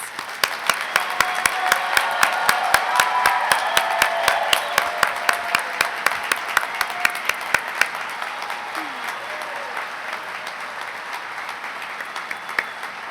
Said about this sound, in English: Will the audience please join me in one final round of applause for our graduates?